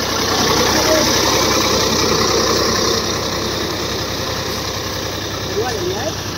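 A tractor engine runs while pulling a loaded trolley in a pulling contest among Swaraj 855 4x4, Arjun 605 and Mahindra 275 DI tractors, a steady close diesel drone with a slight easing partway through.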